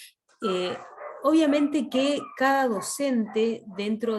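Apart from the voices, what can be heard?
dogs barking in the neighbourhood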